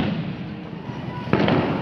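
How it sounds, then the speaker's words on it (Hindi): Firecrackers during Diwali celebrations, a muffled crackle in the background and then a couple of sharp, close bangs right near the end of the brief stretch. "पटाखा फोड़ रहे हो?"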